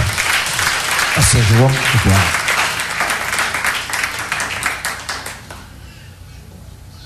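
A church congregation claps and applauds to acclaim God, a dense burst of clapping that fades after a few seconds, with a voice speaking over the start.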